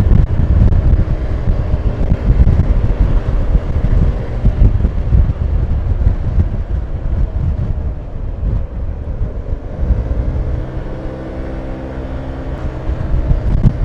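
A Honda scooter on winding bends toward Banská Štiavnica, with loud, steady wind buffeting the microphone over a low engine rumble throughout and a faint tonal hum rising near the end.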